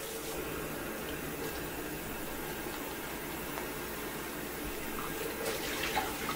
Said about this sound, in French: Je vais ajouter de l'eau.